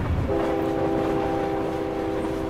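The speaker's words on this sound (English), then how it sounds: "Damn train." A train rumbles steadily past in American Truck Simulator, a continuous loud rolling drone with tonal horn-like hum throughout, no talking.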